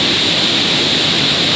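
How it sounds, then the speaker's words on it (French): Large waterfall near Ubud, Bali, a steady, dense roar of rushing water that stays loud and unbroken throughout with no voices. "Là, au bout, il y a une grosse cascade."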